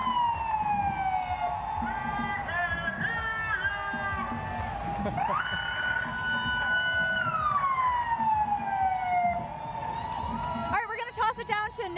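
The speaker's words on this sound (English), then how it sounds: "You can see the fire engines" At a Pride parade on 5th Avenue, New York Fire Department fire engines wail their sirens loudly and continuously, with rising and falling sweeps over a cheering crowd and people talking.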